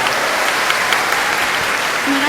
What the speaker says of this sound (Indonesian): tepuk tangan buat Maryam